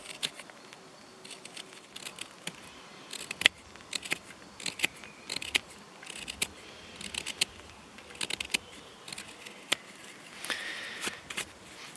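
A knife carving a simple wooden spoon, with sharp little cuts and snicks coming in irregular bursts, close and crisp over a quiet background.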